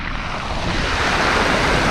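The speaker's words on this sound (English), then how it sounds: "Some nice waves coming in." Sea waves wash steadily onto a UK shoreline, a continuous broad surf roar mixed with wind buffeting close to the microphone, with no voices.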